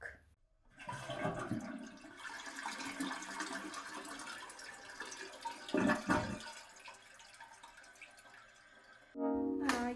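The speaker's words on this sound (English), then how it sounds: "let me just go give it a quick rinse and be back" Tap water runs steadily into a bathroom sink while a sugar face scrub is rinsed off, with splashing and shifting flow for several seconds before a louder burst near the end.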